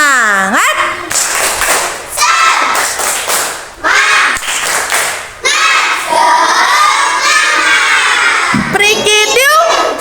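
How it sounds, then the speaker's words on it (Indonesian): A group of children performs a rhythmic spirit clap, with bursts of clapping alternating with loud shouted chanting in a lively classroom setting. "Tepuk semangat."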